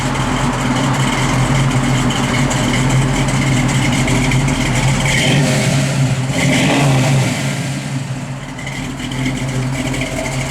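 A 1960 Mercury Comet engine runs loud and close, holding a steady rumble before the revs rise and then drop back.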